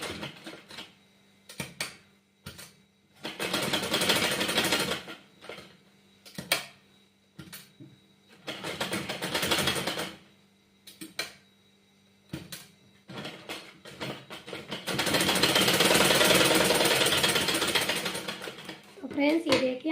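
A sewing machine stitches a shirt in loud rapid bursts of mechanical whirring, several short runs and a longer final one, separated by quiet pauses.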